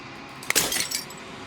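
In Slay the Princess, glass shatters in a single sharp burst and a short scatter of tinkling shards follows, close and clear against near silence.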